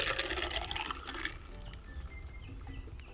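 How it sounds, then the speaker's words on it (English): A frothy Goombay Smash rum cocktail is poured into a glass, making a soft, quiet splashing trickle that is strongest in the first second and then fades into faint dribbles. "and I'm just gonna pour it in."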